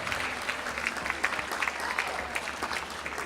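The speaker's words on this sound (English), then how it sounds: "Let's give them a big round of applause, ladies and gentlemen." A Dancing With The Stars 2014 audience applauds the dancers Marianne Iverson and Dan LaBelle with a steady, moderately loud burst of clapping that fills the short stretch evenly, without any speech.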